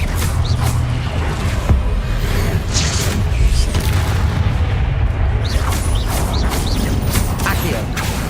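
Spell effects from Hogwarts Legacy, Accio and Incendio cast in combat, come through as dense booming, crackling and clanking game sounds. They run steadily at full level for the whole stretch, layered and busy with repeated impacts.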